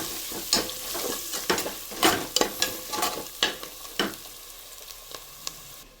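Mint and coriander leaves frying for Telangana-style mutton curry, giving a steady bright sizzle with repeated scraping stirs of a spoon in the pan, close and moderately loud.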